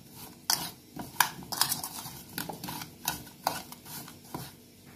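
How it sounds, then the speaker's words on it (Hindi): A spoon stirs boiled potatoes with salt and crushed red chili in a bowl, giving irregular clinks and scrapes of utensil against the bowl, fairly close and uneven in rhythm, with no voices. "और हम इसे जो है वो मिक्स कर लेंगे।"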